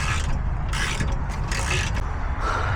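A tight, factory-Loctited caliper bracket bolt on the rear brakes of a 2024 Silverado 2500HD is loosened with a ratchet, producing close, loud bursts of grinding, scraping metal clicks in uneven pulls.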